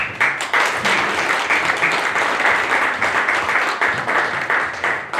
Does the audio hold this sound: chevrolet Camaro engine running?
no